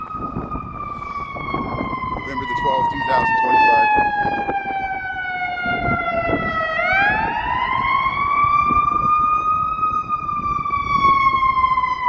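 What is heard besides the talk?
emergency vehicle siren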